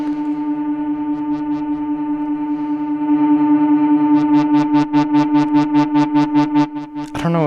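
A Moog Grandmother synthesizer holds a sustained drone through its built-in spring reverb, then breaks into rapid pulsing repeats with a metallic, splashy tail that crashes into a boing at the end. No one speaks.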